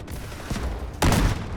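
A burst of rapid gunfire erupts partway through, loud and dense, over a steady background of game noise from the shooter game Delta Force.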